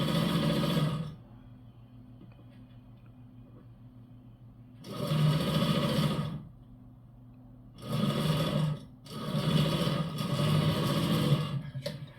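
A sewing machine stitching while a welt pocket is sewn, heard in three loud, close bursts of steady mechanical whirring separated by quiet pauses, with no talk.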